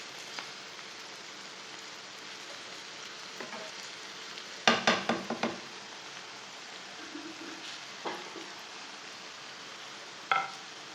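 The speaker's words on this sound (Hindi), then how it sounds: "दो मिनट तक मैंने मसालों को भून लिया है।" Spices fry in a pan, a faint, steady sizzle broken by a brief cluster of sharp crackles and stirring scrapes, with a few isolated clicks afterward, quiet and close with no voices.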